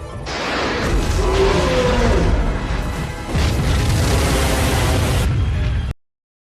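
Torpedo explosions from a Godzilla film, heavy booming blasts with rushing whooshes that fill about six seconds, loud and dense, dipping briefly midway before surging again and cutting off abruptly.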